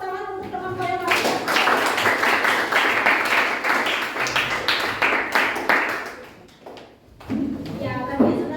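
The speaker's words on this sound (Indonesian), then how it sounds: "berikan tepuk tangan untuk teman saya lagi" A class applauds a student during a lesson, with several seconds of brisk clapping between stretches of a woman's speech.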